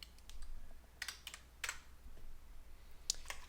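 Typing on a computer keyboard up close, quiet irregular clicks in short bursts over faint room hum, with no voices.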